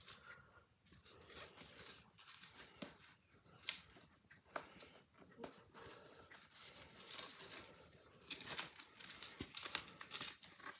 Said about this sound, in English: So let's see now what happens when we take this tape off.